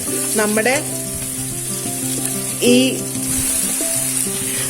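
Chopped garlic and ginger fry in a pan for a Kerala-style prawn pickle, giving a steady sizzle beneath brief chirpy tonal sounds, close and fairly loud with no talk.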